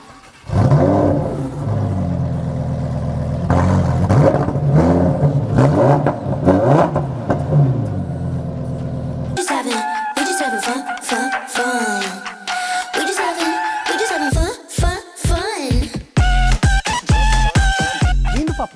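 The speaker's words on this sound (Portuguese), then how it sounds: "Sente só o ronco." Lamborghini Huracán STO with its 5.2-litre, 640-horsepower V10 revving hard, the engine note climbing and falling in loud, repeated surges, close by with no talk over it.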